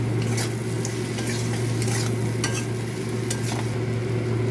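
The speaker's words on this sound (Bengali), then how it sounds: "উচ্ছেটাও দিয়ে দেবো একসাথে।" Bitter gourd, potato, onion, salt, turmeric and slit green chillies fry together in fish oil, making a steady, loud, close sizzle with faint clinks of stirring. No one speaks.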